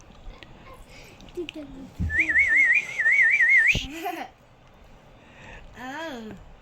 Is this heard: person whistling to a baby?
yes